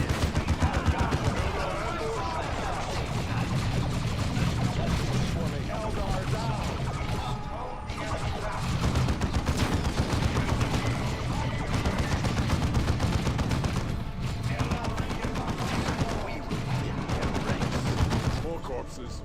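Battle weapons fire in the strategy game Dawn of War II: dense, continuous bursts of rapid gunfire and impacts, loud and close, with short lulls between volleys.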